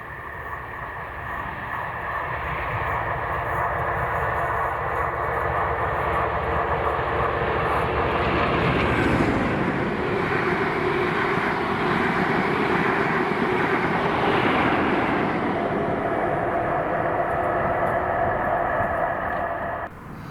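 A passenger train led by locomotive 47712 passing through West Kilbride station in Scotland, a heavy diesel engine drone building to a loud peak midway and holding steady for many seconds before easing off, with no talk.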